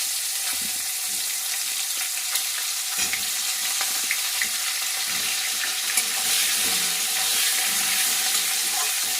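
Cauliflower frying in oil with garam masala, a continuous close sizzle with occasional stirring clicks and scrapes in the pan.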